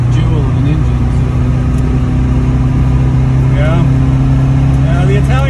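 A 1970 Lancia Fulvia 1.3S Sport Zagato engine runs steadily and loudly up close, a continuous mid-pitched drone with people talking over it.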